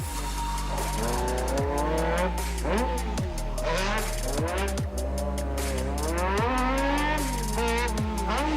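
A turbocharged Toyota MR2 Mark 1 being driven hard, its engine climbing through repeated rising pulls with sharp drops at each gear change, loud and continuous over music-like tones.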